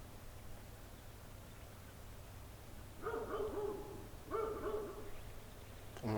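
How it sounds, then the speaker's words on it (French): Owners' dog barking in a backyard garden, two short bursts of several barks each, moderately distant, over steady low outdoor hum, with a sharper noise at the end. "On entend le chien des propriétaires aboyer"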